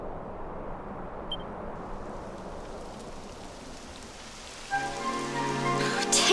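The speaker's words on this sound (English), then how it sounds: "It would have to go and start raining, wouldn't it?" Steady rain patters on surfaces in Dragon Quest XI S, a dense, even hiss heard close by, and a sustained tonal chime swells near the end.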